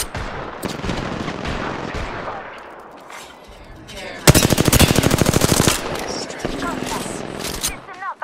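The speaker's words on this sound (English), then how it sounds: "I'm getting shot at." Automatic gunfire in the battle royale game Apex Legends, with rapid loud bursts of shots, one long sustained volley in the middle, and scattered shots around it while a player talks.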